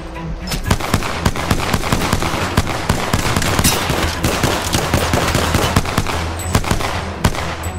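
Sustained automatic gunfire from Apex Legends, a dense stream of rapid shots and impacts crackling without pause, loud and close throughout.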